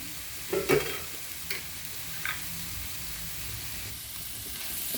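Chopped coriander leaves fry in a pan of avarekalu chitranna (hyacinth bean lemon rice), giving a steady close sizzle with a few brief stirring clatters near the start, alone and without voices.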